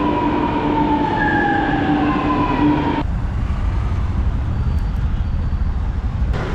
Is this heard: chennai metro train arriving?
yes